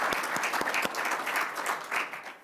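An audience at a conference panel on northern EU enlargement applauds the organizers, with steady clapping from many hands and a few louder close claps punctuating the start.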